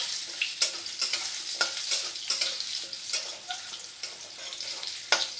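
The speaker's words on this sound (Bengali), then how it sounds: "আলুটাকে এবার আমি ভাজবো" Potato pieces fry in hot oil with cumin, giving a steady crackling sizzle broken by the scrape and clatter of a utensil stirring the pan, close and with no voices.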